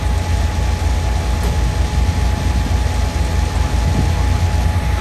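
A fuel pump motor at a filling station runs with a continuous, even mechanical hum that stays steady throughout, with no talking.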